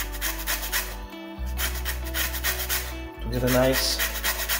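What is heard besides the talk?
grating an orange for zest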